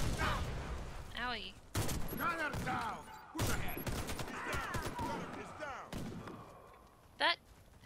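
Assault rifle fire in the Warface shooter game: scattered bursts and thuds of gunfire mixed with other game effects, running under steady close talking from players.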